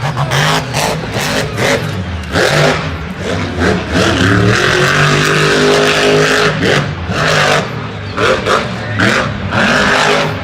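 Monster truck engine at a Monster Jam stadium show in Las Vegas, loud and close, roaring and revving in surges through a freestyle jump with crowd and arena noise beneath.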